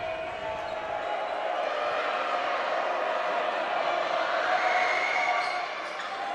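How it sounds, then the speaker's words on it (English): A loud Mason home crowd fills the gym at a Moeller vs. Mason OHSAA boys high school basketball game, a steady, roaring wash of voices sustained throughout with no distinct pauses. "Loud Mason crowd in the background."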